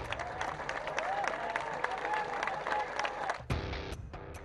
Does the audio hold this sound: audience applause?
yes